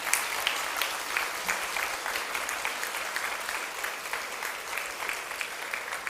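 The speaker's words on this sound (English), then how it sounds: "Can we please have the clapping continued?" An audience at a gender equality and disability working group summit keeps up sustained applause, a dense, loud, steady wash of clapping with no pause.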